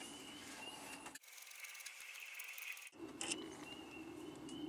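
Ratchet wrench loosening the rear brake bolts on a Honda CR-V, a close, steady mechanical clicking that drops out briefly in the middle and then resumes with no talking.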